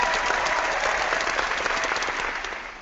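Audience applause at the E3 gaming expo during a Skylanders Trap Team showing, a dense, steady wash of many hands clapping close by, easing off slightly toward the end.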